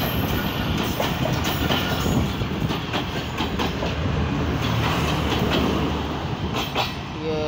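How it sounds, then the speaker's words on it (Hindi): The Karakoram Express, hauled by a ZCU-30 locomotive, rolls slowly through Drigh Road station in Pakistan with a loud steady rumble and rhythmic wheel clicks over rail joints, passing close by. "डिगरोड स्टेशन से निकल चुकी है 41 अब कराकरम एक्सप्रेस ZCU-30 के साथ स्लो स्पीड में डिगरोड स्टेशन से पास हुई है।"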